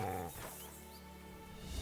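Wolves growling and snarling in the video game Kingdom Come Deliverance 2, a low, rough, sustained animal growl at moderate distance over faint background ambience.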